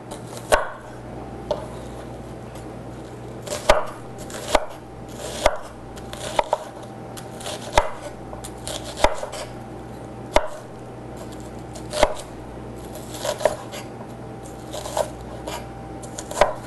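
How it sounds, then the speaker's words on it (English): A kitchen knife chops food into generous big chunks on a board, striking in a steady series of about a dozen crisp, close knocks roughly a second apart over a low background hum. "One more chop."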